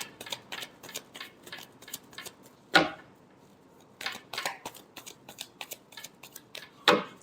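Tarot cards are shuffled in a quick run of crisp, close flicks and riffles, with two sharper snaps standing out and brief gaps between bursts.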